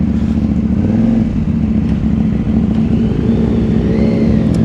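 A KTM Duke 790 motorcycle engine runs steadily and loud throughout, a low droning rumble with slight rises in revs, close by with no talk.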